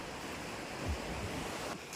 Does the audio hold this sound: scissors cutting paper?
no